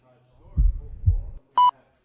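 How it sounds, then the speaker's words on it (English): A heartbeat monitor sound plays during an archery shoot-off: two deep, soft thumps of a heartbeat followed by a single sharp electronic beep, fairly clear against a quiet background. "The heartbeat monitor."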